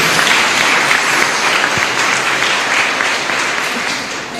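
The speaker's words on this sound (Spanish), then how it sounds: "Fuerte el aplauso para cada uno de ustedes." A congregation in the Caacupemí chapel claps loudly and steadily for several seconds, a dense sustained round of applause with no speech over it.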